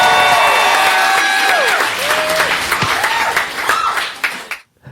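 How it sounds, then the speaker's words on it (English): A comedy club audience applauds and cheers as a headlining comedian is introduced, a dense wash of clapping and whoops with a few voices rising above it, tapering off toward the end before quickly falling silent. "get loud and proud for your headliner, Josh Johnson!"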